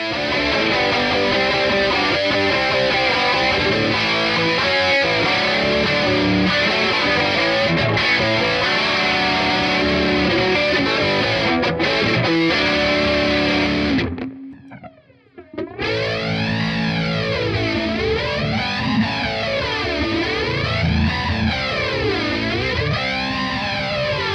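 Electric guitar played through a Fender Twin Reverb Tonemaster with heavy distortion and chorus, loud sustained chords ringing continuously, a brief near-silent gap midway, then swirling warbling tones.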